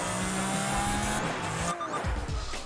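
Tires squeal and skid in Project Gotham Racing 3 as a car loses traction, a sustained screech over a droning engine that cuts off sharply and then swells back in a second slide.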